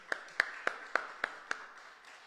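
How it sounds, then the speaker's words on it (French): At a Sunday church service, after the worship team performs, six crisp, evenly spaced claps ring out close by and then stop, leaving quiet room tone. "Est-ce qu'on peut les applaudir?"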